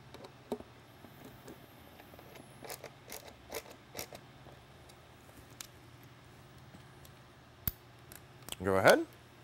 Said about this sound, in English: I'm gonna go ahead and cinch the screws down in a cross pattern.